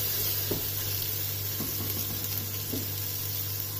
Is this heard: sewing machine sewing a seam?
no